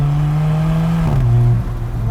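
A 240-horsepower Alfa Romeo 4C Spyder mid-engine sports car drones loudly and close on a tight road, its engine note holding steady and then dropping in pitch partway through, as if shifting gear.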